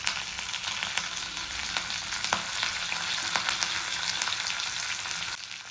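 Mustard seeds, red chili and half a spoon of cumin crackle in hot tempering oil for coconut chutney, a dense, close sizzle with sharp scattered pops throughout.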